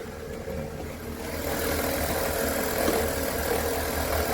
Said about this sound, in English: now the alternator is making a strange noise